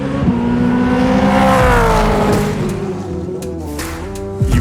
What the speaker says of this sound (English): A few more laps today, make sure the car's running perfectly